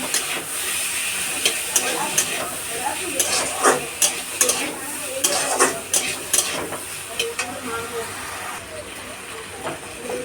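Ginger-garlic paste and tomato stirred together in a frying pan, a steady sizzle broken by repeated scraping strokes of the spoon through the whole stretch, with some talk over it.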